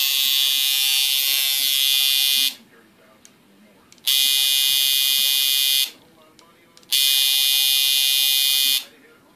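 A tattoo machine driven by a Monster Point MP5 power supply buzzes loudly in three separate bursts of about two seconds each, with brief near-silent pauses in between as it is switched on and off.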